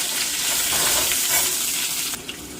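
A sliced medium onion hits hot oil for a goat liver curry, giving a loud, continuous sizzle with stirring scrapes, close and without voices.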